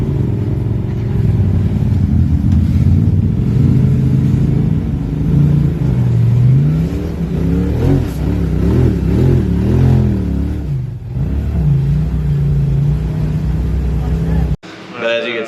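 An off-road vehicle on Nitto tires revs and climbs a trail obstacle, its mid-pitched engine loud and close, rising and falling as the throttle works, with people talking over it throughout.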